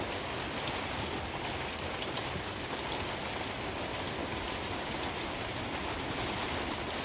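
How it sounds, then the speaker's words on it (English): Heavy rain from Storm Eowyn pours down steadily in a garden, a dense hiss of large drops striking the ground close by, continuous and loud throughout with no voices. "really big raindrops coming down in my garden"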